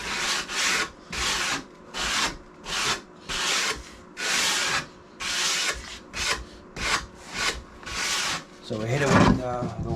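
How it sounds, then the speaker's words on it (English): Sandpaper rasps back and forth across a wooden seam on a custom entertainment center in about a dozen steady rhythmic strokes, close and fairly loud, ending with a short clatter. "And when we sand this, we sand it on an angle."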